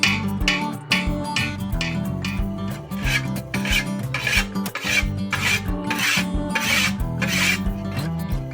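Steady rasping of a file worked along the edge of a scythe blade, with repeated rhythmic strokes that are close and fairly loud, no voices.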